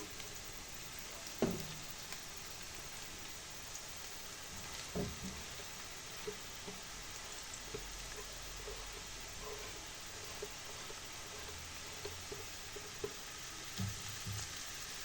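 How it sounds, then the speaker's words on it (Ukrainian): A single grated carrot frying in a pan with golden-browned onion, a steady soft sizzle with occasional stirring clicks and scrapes throughout. "Все перемішуємо і хай все досить добре обсмажується."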